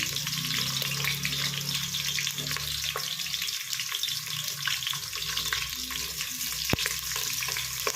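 Chopped onions fry in a pan with a steady, close sizzle and occasional scraping or clinks from stirring, continuous for several seconds with no voices.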